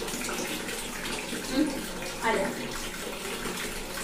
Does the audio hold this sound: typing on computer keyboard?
no